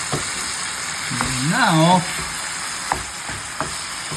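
Beef pares seasoned with pepper is stirred in a hot pan, giving a close, steady sizzle with scraping strokes and occasional utensil taps, while a voice speaks briefly.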